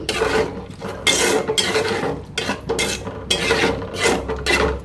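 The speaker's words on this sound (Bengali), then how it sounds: "এখন ডালটা দিয়ে একটু কষিয়ে নিই" Dal being stir-fried with spices and dried fish in a pan for a home-cooked Bengali okra curry, a steady rasping, scraping stir of a spatula against the pan in repeated close strokes without pause.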